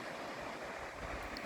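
Waves washing onto a small beach on the Spanish coast, a steady broadband surf wash with some wind, continuous and moderately loud with no talk.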